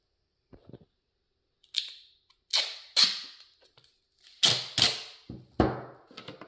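Duct tape is pulled and pressed onto a plastic seed-starting container in a series of sharp, sticky rips, about half a dozen short bursts fading quickly, close and loud against otherwise silent surroundings.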